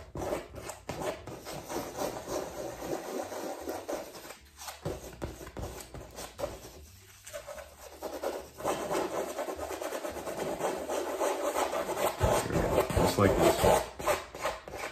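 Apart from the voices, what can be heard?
palette knife rubbing oil paint into black canvas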